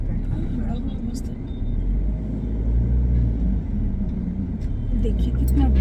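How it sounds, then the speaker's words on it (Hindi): Steady road traffic rumbles in a busy city street, with deep low engine drone from cars, buses and auto-rickshaws continuing throughout, close and fairly loud, with occasional higher horn-like tones. "देखिए कितना ट्रैफिक है"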